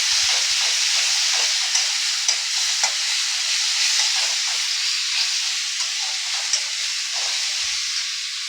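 Onion paste frying in hot oil for a Bengali egg curry with potato and yogurt, giving a steady, close hiss and sizzle with a few faint stirring clicks throughout, with no talk.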